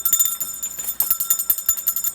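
A small tinny bell rings rapidly and repeatedly, a thin metallic rattle close by, briefly pausing before jangling again.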